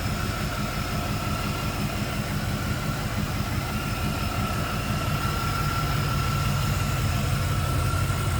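A 1996 Chevrolet Impala SS sedan with its 5.7-liter (350) LT1 V8 idles steadily, a constant low rumble and hum held evenly throughout with no voices.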